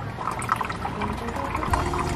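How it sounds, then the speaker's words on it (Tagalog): Water bubbling and trickling steadily in a home aquarium, stirred by a homemade non-electric air pump, a continuous close, moderately loud burbling wash with no talking. "nagpo-produce na siya ng bubbles dito sa aquarium natin"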